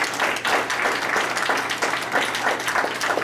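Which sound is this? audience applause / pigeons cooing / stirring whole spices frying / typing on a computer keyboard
audience applause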